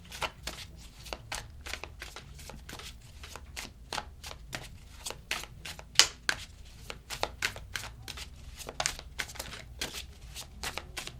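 Tarot cards shuffled repeatedly by hand, a close, steady stream of sharp card snaps and riffles with a few louder flicks as cards are pulled.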